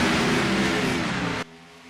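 A field of stock-style race cars roars away together at the green flag start at Watkins Glen in a fictional Piston Cup Series race, a loud, dense engine wash that holds steady and then cuts off sharply.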